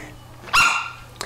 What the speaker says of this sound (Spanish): quería un ladrido. Un pequeño ladrido.